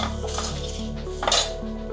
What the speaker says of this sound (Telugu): పసుపు మళ్ళీ ఒకసారి కలుపుకొని